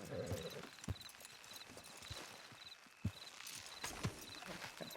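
Horse hooves clip-clop at a slow walking pace in Red Dead Redemption 2, a series of distinct soft thuds over quiet game ambience, with no one speaking.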